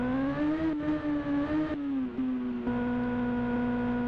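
A 2002 Yamaha R1 sport bike engine revving under throttle, close and loud, its buzzing tone rising in pitch, dipping briefly, then holding a steady high-pitched whine.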